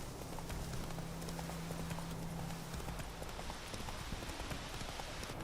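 Roach, the horse in Witcher 3, trotting along a road, with a steady, fast clip-clop of hooves that runs continuously and fairly faint under a constant background.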